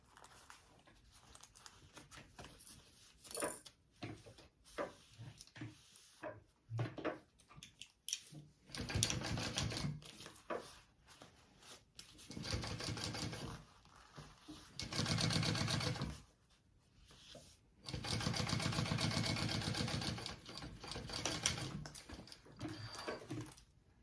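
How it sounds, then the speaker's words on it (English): Sewing machine top stitching fabric below a zipper, with several bursts of rapid mechanical whirring and stitching of varying length separated by pauses and quiet handling sounds, close and moderately loud. "now we want to top stitch along the bottom, below the zipper"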